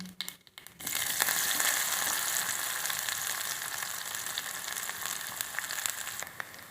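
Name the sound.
onion frying in hot oil tempering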